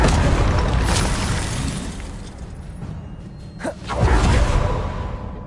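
Confringo and Expelliarmus spells fire in Hogwarts Legacy, producing whooshing bursts and booming impacts with a crackling shatter, loud and close over game ambience.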